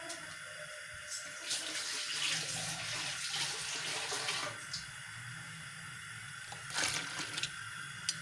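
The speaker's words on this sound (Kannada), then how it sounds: "ನೀರು ಹಾಕಿದೆ" Water poured into a cooking pot on a home kitchen stove where lentils are simmering, a steady splashing pour running throughout with brief louder gushes near the end, close and without talk.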